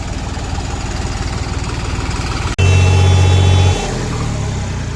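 A tractor's diesel engine, not pulling properly, chugs steadily and loudly in a field, briefly cuts out with a click, then revs harder before settling back to a rough idle.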